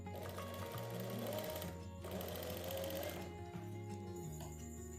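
A sewing machine runs continuously while stitching the side seam of a kurti, a close, steady mechanical whir with rapid needle chatter and slight speed changes, no voices over it.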